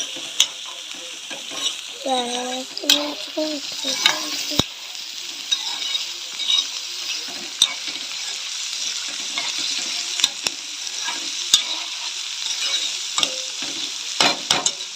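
Raw plantain slices fry in a pan with a dense, steady sizzle that carries on for the whole stretch, broken by occasional stirring scrapes and light clinks of the utensil.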